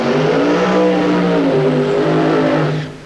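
A 490 cubic inch Keith Black engine in a B altered drag racing car at a drag strip roars loudly and continuously, its revs shifting before the sound cuts away at the end.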